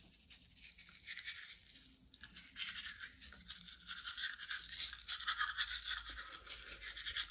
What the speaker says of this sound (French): Et là, on se brosse ici, là.